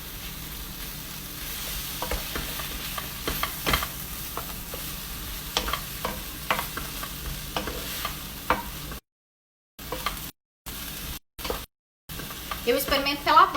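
Shimeji mushrooms and vegetables, green beans among them, sauté in butter, giving a steady sizzle broken by repeated stirring scrapes and clinks of a utensil in the pan, with a few brief dropouts near the end.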